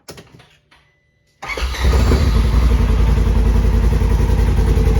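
Polaris General XP side-by-side engine cranking and catching after a quiet pause, then settling into a loud, steady, close rumbling idle heard from near the rear wheel.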